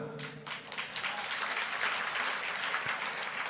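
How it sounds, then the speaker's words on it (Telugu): A church congregation claps loudly and steadily during a Christian sermon, a dense roar of many hands with no speech over it. "కొడితే చప్పట్లు గట్టి కొట్టు"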